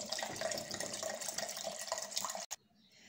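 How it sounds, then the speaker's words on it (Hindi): About a glass of cold water pours steadily into yogurt in a grinder jar, a close, continuous splashing stream that stops abruptly near the end. "इस दही में हम एक ग्लास के करीब ठंडा पानी ऐड कर देंगे।"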